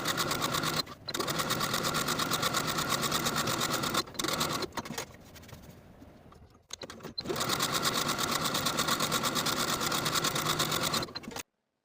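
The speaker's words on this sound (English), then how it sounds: "we're going to edge stitch along the folded edge on both sides of the seam from top to bottom" A sewing machine runs steady bursts of edge stitching along the folded edge of a blouse seam, the close, even whir pausing briefly a few times before resuming.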